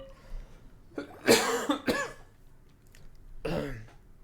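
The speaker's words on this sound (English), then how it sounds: "Yeah, cough." A game character in Genshin Impact gives several short raspy coughs with throat clearing, grouped in two bursts separated by a pause, fairly close and alone.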